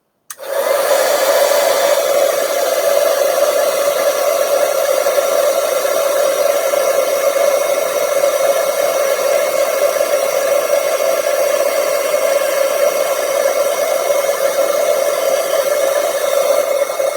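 A heat tool blows hot air to melt white embossing powder on a stamped poinsettia petal craft piece, producing a loud, steady fan whine and whoosh that runs unbroken for over fifteen seconds with no talking.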